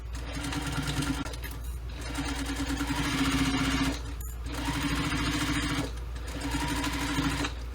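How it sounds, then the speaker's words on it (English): Sewing machine stitching a business bag exterior seam at a 3/8-inch allowance, running in long continuous stretches broken by a couple of short pauses, close, steady and unaccompanied. "You're going to sew this with the 3/8 of an inch seam allowance."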